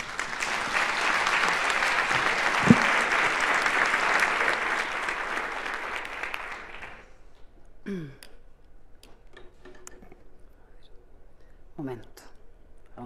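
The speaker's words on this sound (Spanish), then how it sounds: "Recibamos con un fuerte aplauso a Nona Fernández." Strong audience applause welcoming author Nona Fernández at a literary prize event, a loud sustained wash of clapping for about seven seconds that then cuts off, leaving a quiet room with faint scattered sounds.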